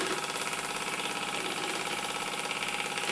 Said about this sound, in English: It's almost like a steam engine.